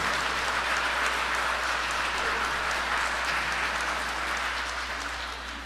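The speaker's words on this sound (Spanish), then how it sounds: "Un aplauso a Jesús, hermanos, qué bonito." A church congregation applauds during a Sunday Mass, a steady, even patter of clapping that is fairly soft and a little distant, tapering off at the end.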